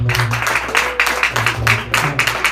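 A church congregation claps rhythmically in short regular bursts, roughly two per second, over a low musical hum.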